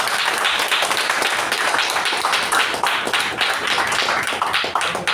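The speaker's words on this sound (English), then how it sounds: "Let's give him a big round of applause" Dense, loud applause from a club meeting audience honoring a longtime mentor, continuous rapid clapping filling the room for several seconds.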